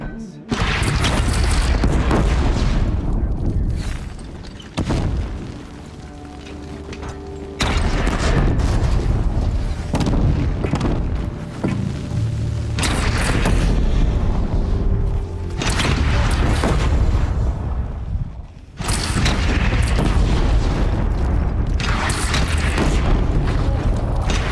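Heavy cannon blasts from a bandit clan's gun in the PS4 game Horizon Zero Dawn, loud booming shots repeating through the stretch with rumbling mechanical battle noise and voices in between.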